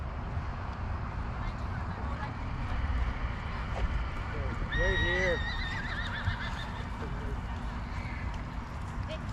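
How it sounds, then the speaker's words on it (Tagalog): A horse whinnies briefly in the distance at a horse-fighting event, amid a steady outdoor crowd murmur and chatter, with a few faint shorter calls around it. "Ang dami dito kabayo."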